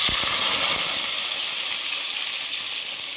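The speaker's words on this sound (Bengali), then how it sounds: "সুন্দরভাবে আদা রসুনের পেস্টটাকে কুক করবো" Ginger garlic paste hits a hot pan of whole spices for a Mughlai chicken korma, giving a loud, steady steaming hiss and sizzle that fades slightly over a few seconds, with no voices.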